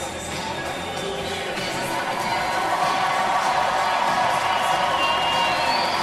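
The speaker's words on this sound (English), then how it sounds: "The reaction from the crowd, a good body of it, suggests they didn't agree with that." A large boxing arena crowd at an Olympic quarterfinal bout reacts to the decision with a steady, loud roar of voices, mixed with scattered cheers and whoops that swell slightly and hold.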